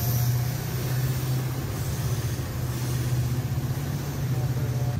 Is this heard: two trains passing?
yes